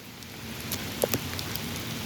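Steady rain falling in Franklin Park, a dense even hiss with a few sharper drips and splashes standing out, no voices.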